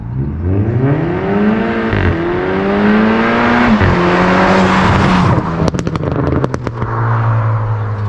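A remapped VW Polo GTI with a full Scorpion turbo-back exhaust revs hard, its engine note rising and falling in long sweeps, then sharp loud pops and crackles burst from the exhaust near the end.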